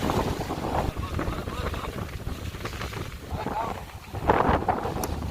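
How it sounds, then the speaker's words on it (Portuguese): Strong, steady wind buffets the microphone by the sea on the Ceará coast during the windy season, a constant roaring rush with gusts, while a person talks over it. "Estamos nos períodos de vento duro."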